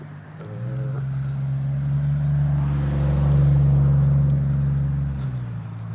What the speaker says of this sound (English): There he goes revving his engine right there.